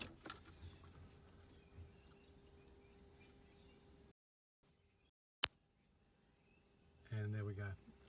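Dymco 2.5k 10-inch dash cam powering on in a car as the ignition is switched on: a faint rattle of keys early, a sharp click mid-way, then a short, fairly loud electronic start-up tone near the end in a quiet cabin.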